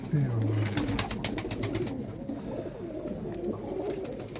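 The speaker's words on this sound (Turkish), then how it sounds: "Güzel kuşlar." Pigeons coo in low, throaty warbles close by, repeating over a busy background of rustling and scattered noises.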